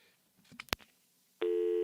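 A telephone line gives a few brief clicks and dial tones, then a loud steady busy signal tone sets in and holds to the end, close and clear.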